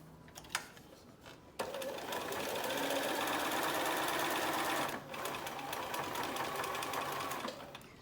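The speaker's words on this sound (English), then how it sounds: "I'm stitching very close to the edge of the feed dogs on here" A close sewing machine runs in one long, even, rattling burst while stitching fabric for a pleated face mask. It dips briefly partway through, and a few clicks come before it starts and after it stops.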